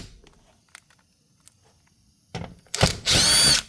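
Power tool removing fasteners during an oil change on a 2005 Porsche Cayenne: after a few quiet clicks and knocks, a short burst of whirring starts, followed by a loud, sustained drill-like whine close by.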